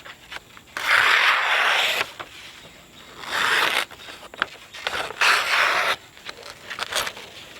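A TRC Apocalypse knife edge slices through a piece of paper in three long rasping strokes, each about a second or more, close and fairly loud, with brief scratchy catches between them and no talking.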